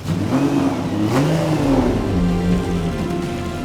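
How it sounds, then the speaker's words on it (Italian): A vintage Ferrari car engine starts and revs loudly and continuously, its pitch rising and falling as the throttle is worked. "Una vettura che ritorna a vita con il motore che si accende, sì, fa vibrare."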